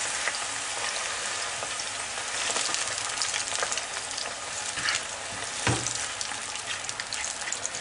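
Onion frying in oil in a pan, a steady broadband sizzle and crackle throughout with an occasional stir or clink, close and moderately loud with no talking.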